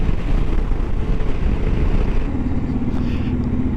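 A first-generation Kawasaki KLR650 cruises at 55 mph around 3,500 rpm, its engine drone buried in a dense, constant roar of wind and road noise.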